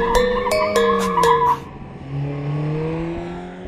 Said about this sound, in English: An AMG should always be able to go sideways.